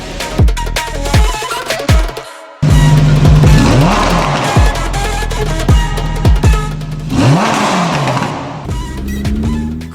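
A car engine roars and revs repeatedly with sharp rising pitch sweeps and a few tire squeals, loud and close, with one brief gap.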